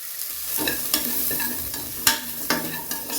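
Asafoetida and coriander powder sautéing in a pot with cumin, a close steady sizzle broken by several sharp spatula scrapes and taps.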